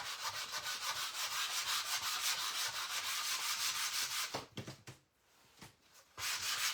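A 120-grit sandpaper block is rubbed steadily back and forth across a wooden cutting board. The strokes are close, loud and rhythmic and carry on for several seconds, then break into a few irregular scrapes and a short pause before they resume.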